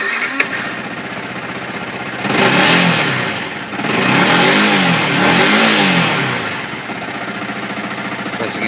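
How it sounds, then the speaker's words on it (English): A motorbike engine revs hard twice toward the rev limiter, each loud surge climbing and falling back, between quieter idling at the start and end. "Just start the bike up, make sure it's not in gear."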